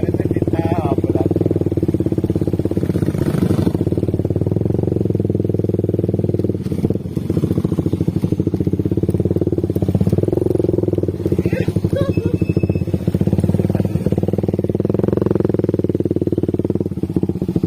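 A motorcycle engine drones loudly and steadily throughout at close range beside a river during wild baung and tawes fishing, with low rumbling and occasional clatter.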